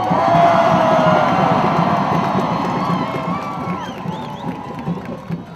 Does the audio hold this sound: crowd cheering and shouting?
yes